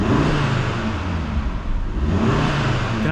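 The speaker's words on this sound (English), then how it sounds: "You can actually hear the turbo spooling up just with free revving it." An Audi RSQ3 Sportback's turbocharged engine revs up and down with no load, heard through an open door, a loud throaty roar rising and falling, with a faint turbo-spool whirring note over it.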